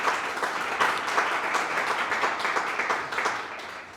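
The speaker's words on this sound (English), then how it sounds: "If you could please give them a round of applause." An audience at an association's officer installation event applauds its sponsors, dense steady clapping from a crowd that holds for several seconds and tapers slightly at the end, with no talk over it.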